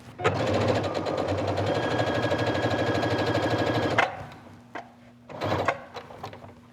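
A sewing machine runs a straight stitch through linen pieces of a quilt block in a steady, loud rapid whir for about four seconds, then stops, followed by a few short, close handling clicks and bursts of motor.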